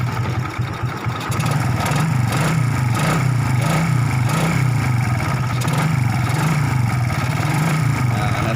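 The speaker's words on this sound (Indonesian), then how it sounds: "motornya masih tetap hidup normal seperti itu" A motorcycle engine idles steadily and close, a continuous low throbbing putter with even rhythm and no speech over it.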